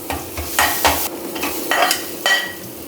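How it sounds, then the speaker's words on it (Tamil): Grated coconut frying in ghee in a pan, a close sizzle with repeated scraping stirring strokes in an irregular rhythm, loud and without talk. "கொஞ்சம் வறுத்துக்கிறேன், நெய்யிலே வறுத்துக்கிறேன்."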